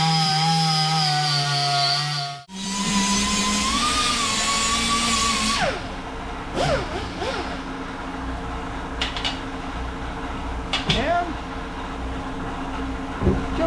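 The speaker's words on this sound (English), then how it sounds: "now what we're going to use is a little flapper wheel on our die grinder" A die grinder fitted with a flapper wheel grinds down a welded fender on a mini enduro, whining loudly and steadily at first, then dropping into rougher, intermittent grinding bursts with shifting pitch.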